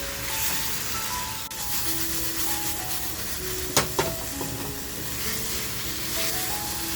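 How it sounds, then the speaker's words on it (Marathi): Fish roe (gaboli) fries in a hot pan with a steady, dense sizzle, broken by a couple of sharp pops or taps near the middle; no voices. "आता जी गाभोळी आपण पीस करून ठेवली आहे ती याच्यापासून मस्त फ्राय करून घेऊया."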